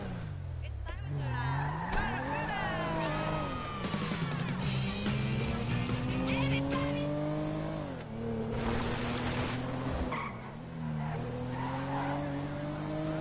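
A car driven in the GTA V video game, engine tone rising and falling with tire skids and squeals, loud and continuous throughout with a voice talking over it.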